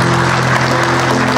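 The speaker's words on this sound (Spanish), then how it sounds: "Los aplausos para él." Continuous steady applause for a nursing student representative at a university hospital-practice ceremony, loud and dense throughout, mixed with a humming room tone.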